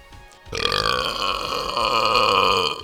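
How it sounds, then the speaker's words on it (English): A single long, loud, close burp erupts after a brief quiet moment and rumbles on steadily for over two seconds without any talking. "Probably gonna have a lot of like burping bloopers at the end of this video."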